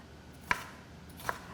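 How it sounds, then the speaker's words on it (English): A knife chops salad vegetables into bite-sized pieces on a board, giving two separate crisp knocks about three quarters of a second apart in a quiet kitchen. "chopping into bite-sized pieces."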